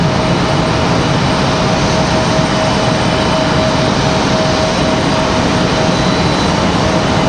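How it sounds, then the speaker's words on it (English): A JetBlue Airbus A320 jet roars at full takeoff thrust on departure from Raleigh-Durham, a loud, steady broadband engine rumble close by that holds constant throughout. "JetBlue in this A320. Hopefully this will be a fantastic departure here."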